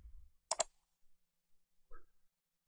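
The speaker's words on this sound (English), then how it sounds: "Click the OK button." A mouse click on an OK button in a Malwarebytes Anti-Malware installer, one sharp close click followed later by a fainter second tick in near silence.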